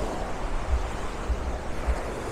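Sea waves wash into the sheltered cove of Pelícanos beach in Playa del Carmen, a steady surf wash with low rumbling swells rolling in about every half second, mixed with wind buffeting the microphone.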